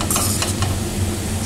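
Radish greens stirred and frying in a pan, with a steady broadband sizzle throughout and a few brief scraping stirs near the start, close and fairly loud, no talking.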